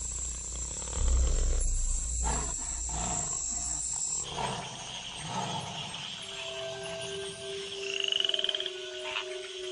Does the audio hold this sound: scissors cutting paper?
no